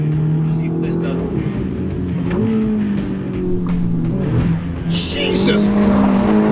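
A Ferrari Roma driven hard with traction control off, engine note rising and falling through gear changes with tire squeal, loud and close, while people talk over it.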